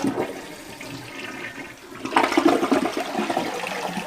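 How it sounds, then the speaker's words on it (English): A newly installed toilet doing a full tank flush, a loud close rush of water that surges suddenly after a quieter stretch of running water and keeps draining steadily to the end. "that is a full flush cycle. That was the whole tank."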